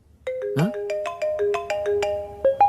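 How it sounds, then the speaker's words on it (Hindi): A mobile phone rings unanswered, its electronic ringtone repeating a bright melodic pattern of sustained tones, loud and close with no voices over it. "जीजू फोन कर रहे हैं, तुम फोन नहीं उठा रही हो।"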